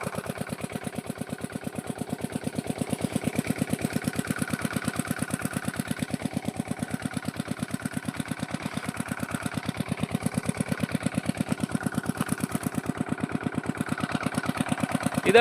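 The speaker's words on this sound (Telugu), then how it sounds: "ఇంజిన్ ఆడుతుంటే ఇట్లా వస్తాయి నీళ్ళు అనమాట" A diesel water pump engine chugs steadily with a fast, even thumping rhythm, loud and close, running without pause.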